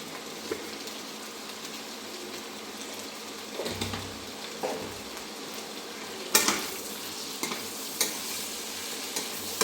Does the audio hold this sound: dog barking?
no